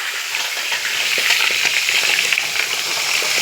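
Marinated mutton meets hot oil in a pan for a mutton curry, giving a steady, close, bright sizzling hiss that runs evenly throughout with no voices.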